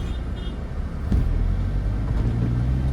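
Car engine rumbling and rising slightly as the driver shifts back into third gear and picks up speed, a steady low drone heard from inside the cabin.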